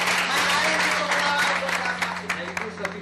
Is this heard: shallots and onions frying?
no